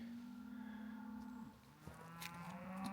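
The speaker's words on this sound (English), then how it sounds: "But this year there are cows, and there are hundreds of them." Cows moo in the distance on the Arizona Trail between Flagstaff and Pine, one long low call followed by another, over a quiet outdoor background.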